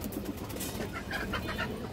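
A female pigeon coos softly at close range, giving low, continuous murmuring calls throughout a brief moment with no talking.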